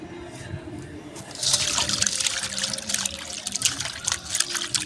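Water runs and trickles close by while fish roe is gently rinsed by hand, the flow growing fuller partway through, with a faint background murmur.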